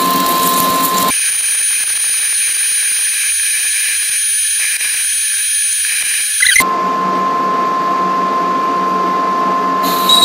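A conventional lathe with a Duplomatic copier turns a 22 mm deep taper cut, a loud, steady machine whine whose texture shifts abruptly twice as the cut changes.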